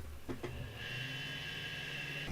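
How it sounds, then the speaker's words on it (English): A 3D printer powering up and warming before a print in carbon-fiber-reinforced filament, giving a couple of clicks and then a steady whirring fan tone with a low hum, close and moderately loud. "The printer's warming up."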